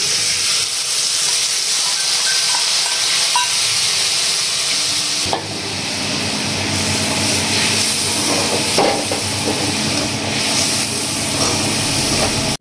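Turmeric and chili paste fries loudly in a pan for a Bengali fish-bone chorchori, a steady dense sizzle and hiss that turns harsher and fuller partway through, with occasional stirring scrapes.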